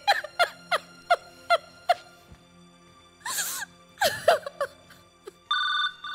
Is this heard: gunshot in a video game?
no